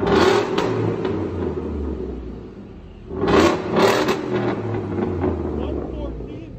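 A 2016 Ford F-150 5.0L Coyote V8 with the muffler and tailpipe cut off for straight pipes revs loud and throaty in two bursts over a steady low idle rumble, with brief voices in between.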